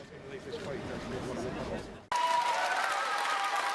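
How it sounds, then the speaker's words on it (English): Applause and cheering fill the Scottish Parliament chamber: a loud, dense wash of clapping and voices that starts mid-roar, breaks off abruptly partway through, then resumes just as loud with brighter, sharper clapping and shouts. "Applause and shouts of joy in the Scottish Parliament"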